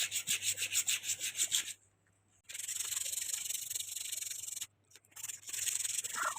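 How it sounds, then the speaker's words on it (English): Rust is scrubbed off the parts of a Samsung inverter washing machine's direct drive motor with rapid, rhythmic rasping strokes, close and moderately loud, broken by two short pauses before the scrubbing resumes. "One by one I will remove all the rust, and can see how I am removing this."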